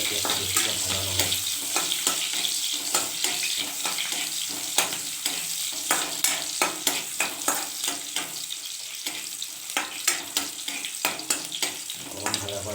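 Chopped onion and panch phoron fry in hot oil in a pan, a continuous close sizzle broken by repeated clicks and scrapes of stirring, with no talk over it.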